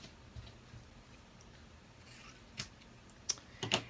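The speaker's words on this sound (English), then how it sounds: "So you're going to take your scissors and just cut this in half." Scissors cut a paper pennant in half during card-making, a few quick, crisp snips near the end after a quiet stretch.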